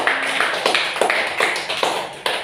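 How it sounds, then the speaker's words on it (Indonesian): Patterned clapping from a classroom of students, sharp rhythmic bursts in repeated groups rather than a continuous wash, fairly close and loud, with no speech over it. "Ya, tepuk tangan untuk semuanya"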